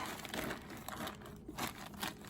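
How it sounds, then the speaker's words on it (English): Plastic bag crinkling and rustling as it is pressed down by hand over a Bokashi compost heap, with soft crushing bursts in an irregular rhythm, close and fairly quiet. "So I have the plastic bag on top. I'm going to press it down in the middle part."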